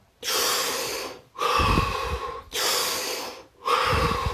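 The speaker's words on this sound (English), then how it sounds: "So take that breath, and then 5 more." A person takes slow, deep breaths during a guided breathing session. Four long, loud, close-up breaths alternate between airy inhales and exhales, each separated by a brief pause, with no talking.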